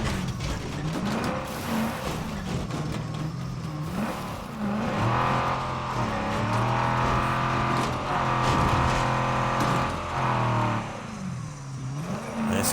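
A car engine revs and drones steadily in the zombie survival video game State of Decay 2, with the pitch rising and falling as it accelerates, loud and continuous throughout with game sounds layered over it.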